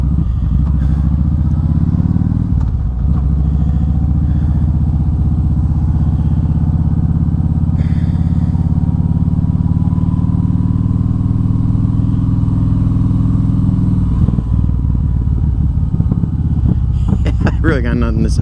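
Steady car engine rumble from sitting in road traffic, a continuous low drone through the whole stretch with a brief shift near the middle; a voice talks over it throughout.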